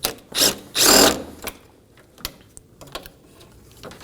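A 10mm headlight bolt is loosened on a 2020 or later Toyota Corolla. Two close, quick mechanical bursts, the second longer and louder, give way to scattered faint clicks and taps.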